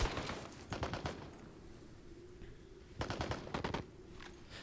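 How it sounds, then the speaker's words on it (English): AK-47 rifles firing in a video game battle, with two separate bursts of rapid automatic shots about two seconds apart over a steady low background hum. "AK-47s."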